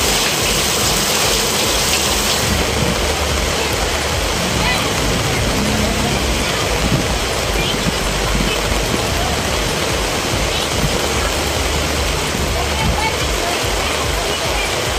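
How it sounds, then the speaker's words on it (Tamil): Heavy rain pours down steadily in Rasipuram, Namakkal district, Tamil Nadu, a dense, even roar of water at constant loudness throughout, with no pauses. "நாமக்கல் மாவட்டம் ராசிபுரத்திலும் கனமழை வெளுத்து வாங்கியது"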